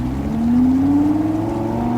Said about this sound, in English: Mid-engine V10 screaming to